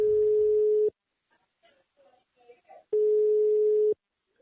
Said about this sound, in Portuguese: Então eu peguei o celular e liguei pro seu José para saber a história dele.